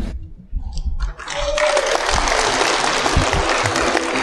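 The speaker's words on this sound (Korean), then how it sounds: "큰 박수 부탁드립니다" An audience at a fishing families' community gathering breaks into applause, starting with a few scattered claps and quickly building into sustained, full clapping from a large crowd.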